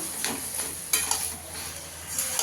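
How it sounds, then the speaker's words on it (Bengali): Taro greens stirred with spices in a frying pan over a gas flame, with repeated scraping strokes of a spatula over a soft, steady sizzle. "ভালো করে একটু মিশিয়ে নেবো মশলার সঙ্গে"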